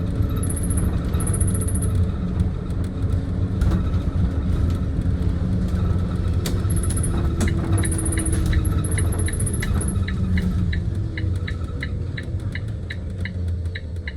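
Thomas C-2 Jouley electric school bus accelerating quickly on the road, a steady low interior rumble with regular light ticking clicks from the cabin and no engine roar.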